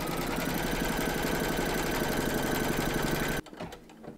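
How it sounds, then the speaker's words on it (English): An embroidery machine stitches a placement outline on stabilizer in a hoop for a crazy patch quilt block, a fast, even, rhythmic needle chatter that runs loud and steady, then stops abruptly near the end. "Pop your hoop into your machine and stitch round number 1"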